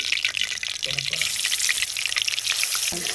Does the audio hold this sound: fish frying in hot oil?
yes